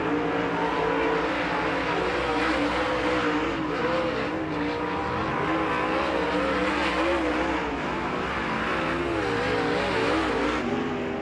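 Sprint cars at full throttle in heat race qualifying at Attica Raceway Park, a loud continuous engine roar with shifting pitch as they lap the dirt oval, no talk.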